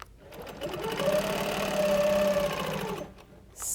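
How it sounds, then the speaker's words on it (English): A sewing machine stitches around quilting templates in one short steady run of rapid humming needle strokes, starting and stopping cleanly, close and alone. "You're never in a hurry when you're stitching around templates."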